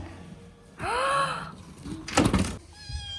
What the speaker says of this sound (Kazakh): Ей, да мысық екен.